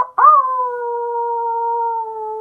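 A person imitates a wolf howl with a single long, steady tonal note that rises at the start and then holds evenly. It is close and clear, with no other sound behind it.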